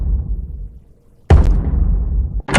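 A single heavy thud lands abruptly after a quiet stretch, followed by a low rumbling decay; another impact begins right at the end.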